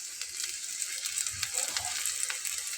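Flatbread frying in oil in a very hot pan for a dhaba-style snack made with flour and lentils, giving a steady close hiss of sizzling with small crackles and no talk.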